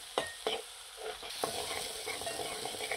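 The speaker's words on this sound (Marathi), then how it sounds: "गॅस अगदी बारीक करायचा आणि 2 मिनिटं रंग येण्यासाठी या मसाल्यांना परतून घ्यायचं व्यवस्थित" Ground spices with red chilli powder and turmeric sautéing in a pan over low heat, a steady soft sizzle with a few sharp stirring scrapes near the start, close and moderately loud.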